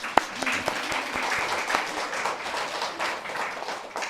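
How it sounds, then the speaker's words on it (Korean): Church congregation at a Sunday service claps in welcome for returning members, a dense, fairly even round of applause with a few sharper individual claps standing out near the start. "환영의 박수 다 같이."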